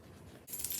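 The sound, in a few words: keys jangling as they are put in a bag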